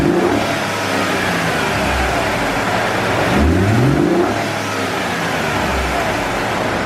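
A 2017 Ford F150 EcoBoost engine fitted with a K&N cold air intake revs up and falls back twice, a loud, close roar that swells and drops over several seconds.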